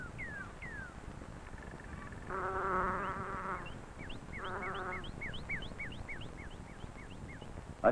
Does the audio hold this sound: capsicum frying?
no